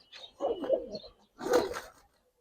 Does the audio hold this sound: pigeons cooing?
yes